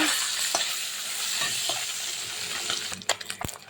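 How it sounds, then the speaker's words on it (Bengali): Amudi fish fry in hot oil in a kadai, giving a continuous close sizzle that fades slightly, then a few sharp utensil taps and stirring scrapes near the end. "এবার মাছ দিয়ে সুন্দর করে ভেজে নেব।"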